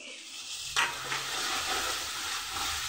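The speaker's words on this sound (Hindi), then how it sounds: "5 मिनट के लिए इसे फिर से हम भूनेंगे।" Onions fry with ginger garlic paste in a pan for aalu chhole; a sudden loud burst of sizzle as the paste goes in, settling into a steady close crackling fry with some stirring, no talking.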